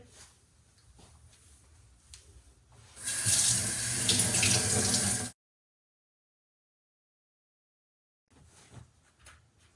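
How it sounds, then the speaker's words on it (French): Leek and spinach are washed under a running kitchen tap: a loud, steady gush of water lasts about two seconds, then cuts off into silence, with quieter handling noises before and after. "Commencez par laver soigneusement le poireau et les épinards."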